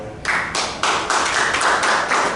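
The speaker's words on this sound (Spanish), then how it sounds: "Fuertes aplausos, por favor" Audience applause at an academic seminar on regional history, a burst of clapping starting after a brief pause and continuing steadily and fairly loud.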